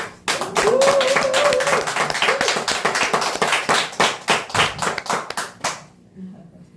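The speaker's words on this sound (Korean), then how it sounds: "우리 감사 환영으로 우리 박수 한번" A Korean church congregation at a New Year Sunday service claps in welcome, brisk rapid clapping that starts dense and loud, then thins into slower separate claps before stopping, with a voice briefly heard near the start.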